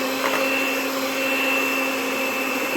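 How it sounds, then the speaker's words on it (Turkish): An electric mixer runs at low speed, slowly whisking cake batter for a quince and apple cake. It makes a steady, even motor whir that holds without a break and has no voices over it. "Ama öncelikle yavaş 2 dakika kadar yavaş çırpacağım."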